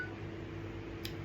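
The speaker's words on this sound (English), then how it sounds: "That's a phone right there, Randy." A telephone in a bedroom at night gives a faint, steady electronic tone with a brief click near the end, and no one speaks.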